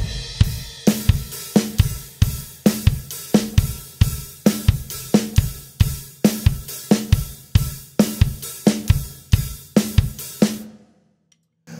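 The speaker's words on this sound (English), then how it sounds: "we just got 1 and with a hi-hat and a kick. Crash cymbal with the first bar." Drum kit plays an outro groove, hi-hat and kick in a steady driving beat with a crash cymbal opening the bar, loud and close, ending abruptly into a short silence.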